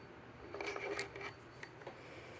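Scissors snip through a tail of green crochet yarn, a few quiet close clicks and rustles spread over a couple of seconds with no voices.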